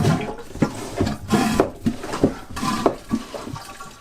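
Rhythmic squelching strokes of a marine toilet hand pump pushing water aboard a sailboat, about eight pulls in quick succession, close and fairly loud.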